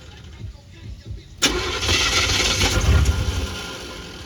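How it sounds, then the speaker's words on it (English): A 1985 Chevrolet El Camino's engine cranks briefly, then catches and roars to life, settling into a rough, loud idle close by; a voice is faintly heard beforehand. "you know it may take 3-4 cranks for it to turn over"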